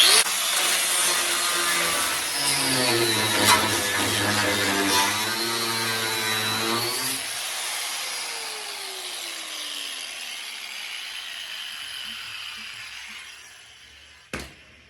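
A small cutoff wheel grinding along the edges of a convertible's rocker panel: a loud, wavering high whine for several seconds that then winds down and fades to quiet, ending with a short clunk.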